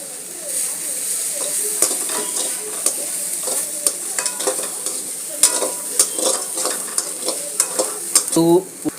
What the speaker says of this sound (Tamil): இப்போ வதக்கிக்கலாம்.